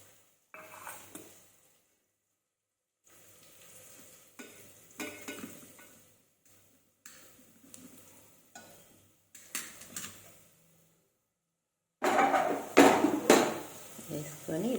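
Rice tossed in a pan with chilli powder, turmeric, salt and coriander powder, giving intermittent soft scraping and stirring bursts separated by pauses, then a louder, denser sizzle and clatter of frying near the end.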